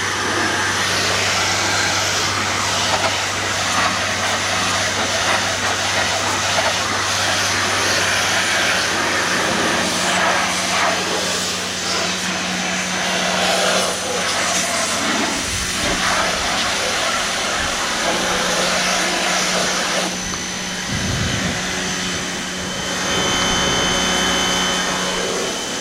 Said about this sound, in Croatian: Ispiranje hladnjaka.